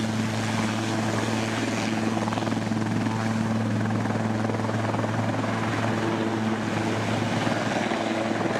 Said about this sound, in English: This medical helicopter was trying to save a patient, but the power lines said, "Not today."